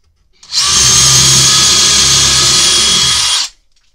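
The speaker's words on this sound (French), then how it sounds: "Je vais mettre en vitesse 2 sur le mode perçage." A DeWalt hammer drill set to speed 2 in drilling mode, one loud steady whine lasting about three seconds, starting and stopping abruptly with near silence on either side.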